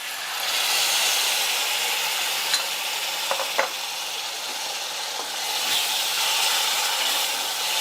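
Water hits hot tempering while avalakki is cooked, producing a loud, continuous close-up sizzle and hiss with a few faint clicks of a spoon.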